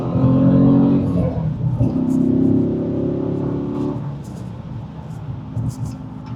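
A Dodge Challenger Scat Pack downshifts through the gears and accelerates, its engine rumbling loudly with rising revs, then easing off toward a steadier drone near the end.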